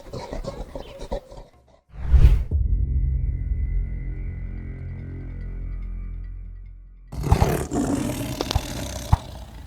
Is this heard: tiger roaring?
yes